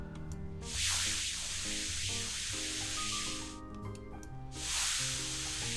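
Paint spraying in the video game Reshine gives off two long, steady hissing blasts, loud and close, over soft background music.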